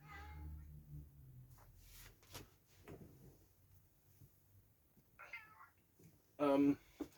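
A house cat meows to be let in, a few faint, high meows with a soft thud or knock, surrounded by quiet room noise and faint speech.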